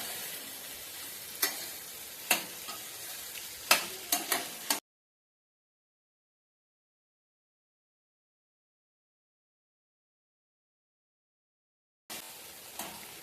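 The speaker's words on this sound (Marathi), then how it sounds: "पहिली भेंडी ही भाजून घेणार आहे याच्यात" Okra frying and being stirred in a pan for a bhendi bhaji, with steady sizzling and a few sharp spatula scrapes, then a long silent gap before the sizzle and stirring return briefly at the end.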